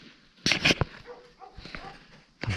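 Dogs barking in the distance outside an abandoned palace at night, a few short bursts of barks, the loudest clustered near the start with another burst at the end, faint and far off.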